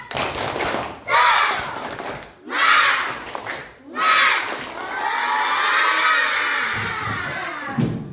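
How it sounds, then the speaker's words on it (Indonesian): A classroom of schoolchildren performs a rhythmic spirit clap, loud bursts of clapping and shouted chanting in short timed phrases, then a longer sustained cheer at close range. "kita tepuk semangat dulu biar lebih semangat ya"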